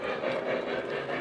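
A model train runs steadily on a layout, giving a continuous rolling rumble and hum for a short stretch with no talk.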